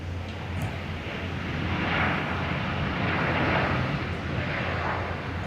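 A Netlink aircraft arriving from Newman comes in to land at Perth, its broad engine roar swelling and easing gently across the moment at a moderate distance.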